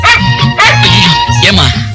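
A dog barks, yips and whimpers in a Tamil drama scene, loud and close, with several quick yelps mixed with human voices talking over them.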